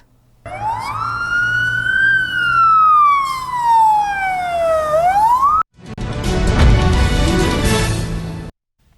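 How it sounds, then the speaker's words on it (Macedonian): An emergency vehicle siren wails loud and close with long rising and falling sweeps, then cuts abruptly to a burst of heavy broadband noise. "Звукот на сирената мора да се почитува, затоа што се работи за нечий живот."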